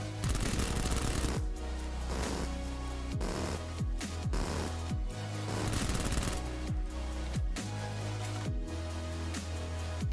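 Suppressed Vector SMG in PUBG fired in rapid bursts, producing loud, dense clusters of muffled shots with brief pauses between strings, no voices present.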